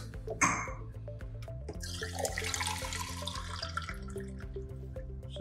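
Water is drawn from a treatment chamber and runs with a steady splashing, faucet-like flow over a low mechanical hum, starting with a brief gush.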